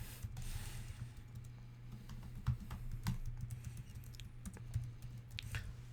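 Computer keyboard keys tapped at a steady, quick rhythm while a password is entered, soft close clicks over a low constant hum with no talking.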